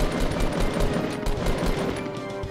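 Rapid automatic gunfire from the video game Fortnite, a dense continuous burst of shots filling the whole moment, loud and close with no talk over it.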